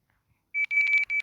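A shop counter device gives a short run of bright electronic beeps, several quick pulses close together after a brief silence, clear and alone.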